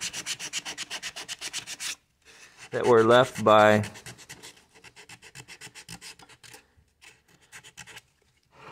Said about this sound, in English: Sand this.